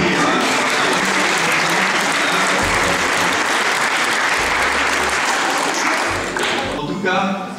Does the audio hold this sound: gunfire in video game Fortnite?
no